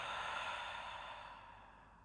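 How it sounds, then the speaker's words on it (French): A slow, breathy exhale through the mouth during a yoga session, close and soft, fading gradually over about two seconds. "Et cette fois-ci, on va expirer par la bouche."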